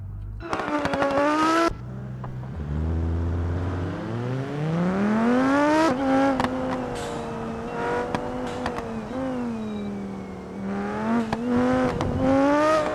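Racing car engine in a video game, revving up through rising gear sweeps with shifts and tire squeals, loud and continuous with no talk over it.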